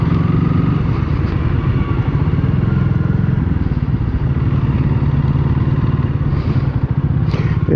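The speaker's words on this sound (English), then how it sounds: "It has a single cylinder engine sound" Single-cylinder motorcycle engine idling or running on a coastal ride in Washington state, a steady, loud, close low thumping drone that continues throughout without talk.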